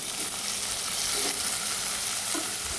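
Frozen green peas go into rice frying in a pan for coconut milk rice and are stirred, giving a loud, continuous sizzle with scraping stirs.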